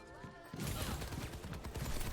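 Video game gunfire erupts after a brief quiet start, with a dense continuous volley of shots and explosions up close.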